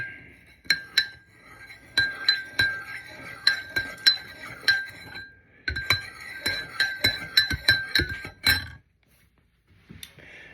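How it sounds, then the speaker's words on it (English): Spoon clinking repeatedly against a glass while a drink with vanilla syrup and cream is stirred, a quick irregular run of bright taps in two bursts, then a pause and a couple of faint knocks. "Stir it up."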